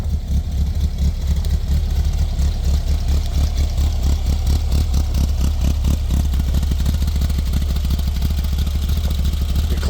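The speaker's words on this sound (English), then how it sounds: "Your classic Volkswagen sound." A 1974 Volkswagen Transporter with a performance cam idles close by, its engine holding a loud, steady, lumpy rumble with a rhythmic clattering pulse for about ten seconds, with no voices.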